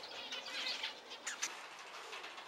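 Tiny winter birds calling outdoors on a farm: a few faint, high chirps and soft coo-like notes scattered over a quiet background hiss, with no one speaking.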